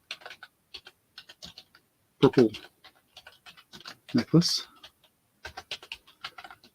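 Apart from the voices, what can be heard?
typing on a keyboard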